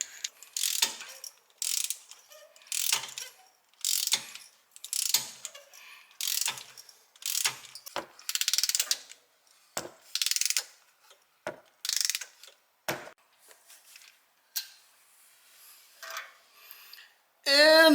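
A ratchet on an extension and spark plug socket works a spark plug out of a Porsche Cayman 981 engine, giving repeated short bursts of quick metallic clicking separated by brief pauses, close and clear.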